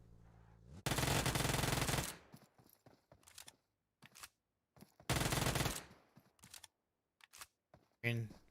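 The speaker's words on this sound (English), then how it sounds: "pre-firing with the Uzi" An Uzi fires in a competitive multiplayer video game, with two long, loud rapid-fire bursts separated by scattered shorter shots and quiet gaps, followed by a brief burst of sound at the end.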